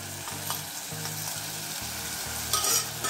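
Urad dal and chana dal frying in oil for South Indian style upma, a steady close sizzle broken by rhythmic scraping stir strokes, with no voices.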